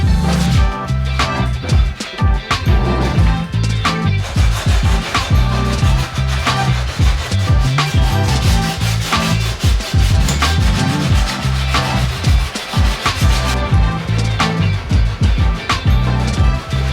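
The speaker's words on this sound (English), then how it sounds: "Bondo's all sanded" Bondo body filler on a shipping-damaged Nissan R34 car panel is sanded in a loud, close, continuous rasping rub with rhythmic back-and-forth strokes, and music plays underneath.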